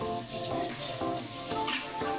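Dried fenugreek leaves (kasuri methi) are stirred into a hot sizzling pan, giving a steady crackling fry noise with soft scraping, while faint music-like tones sit underneath throughout.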